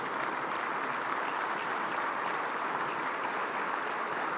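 Sustained applause from a conference audience at the opening ceremony of a fintech forum in Kigali, a dense, steady clapping wash lasting throughout at even loudness with no voices over it.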